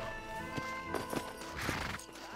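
A horse snorts and whinnies in Red Dead Redemption, with a few hoof thuds in a short close burst over a faint background hum.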